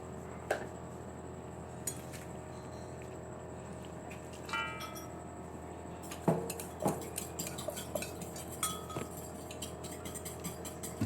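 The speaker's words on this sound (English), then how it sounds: "I'm just stirring the noodles now" Mee kuning yellow noodles are stirred in a pan, with scattered metallic clinks and scrapes of a utensil against the pan over a low steady background hum, close and without speech.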